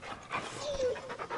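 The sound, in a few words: dog panting in video game Final Fantasy XVI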